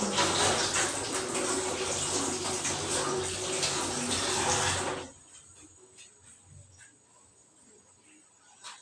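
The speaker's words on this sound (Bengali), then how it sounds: "এই যে দানাটা একটু ভালো করে ধুয়ে নিলাম, এই যে নেটের জালিটা একটু ভালো করে ধুয়ে নিলাম।" Grains and a net cloth for bhapa pitha washed under running tap water: a close, steady gush and splash for about five seconds, then the flow stops, leaving faint handling sounds.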